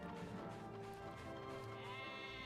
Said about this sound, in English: It's a sheep. What's that sheep doing over here?